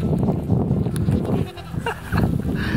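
A flock of sheep in the Gobi Desert of Mongolia bleats in overlapping, wavering calls, close and loud, over a dense continuous animal din.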